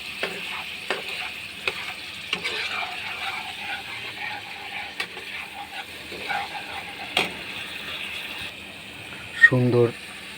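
Green chillies and turmeric powder fry in a pan over low heat, a soft continuous sizzle with scattered stirring clicks and scrapes, fairly quiet, ending with a brief louder clatter near the close.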